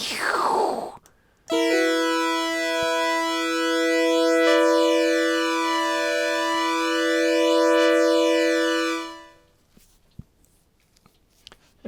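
A bright synthesized tone through a chorus and tape echo plug-in with increased depth swirls with a wide, wavering shimmer, its harmonics sweeping up and down for several seconds before cutting off to near silence.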